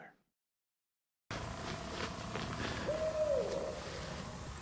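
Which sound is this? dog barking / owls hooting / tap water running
owls hooting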